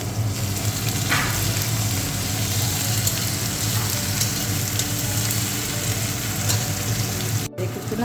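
Chopped garlic frying with onions in a pan for a dried-fish and taro-stolon curry, a steady close sizzle running throughout with faint stirring and no talk.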